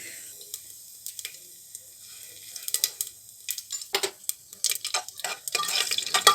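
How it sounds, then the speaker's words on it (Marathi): Cumin and mustard seeds fry in hot oil with whole spices for masale bhaat, starting with sparse soft pops that build into a denser crackle and sizzle, close and moderately loud. "आता यामध्ये एक चमचा जिरं अर्धा चमचा मोहरी छान भाजून घेणार आहे"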